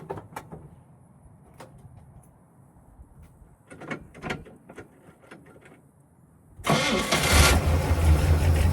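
Race-track equipment with a week-idle engine: several clicks and short rattles of the pedal pumped and cranked, then the engine catches and runs at a loud, steady idle to the end, no talk.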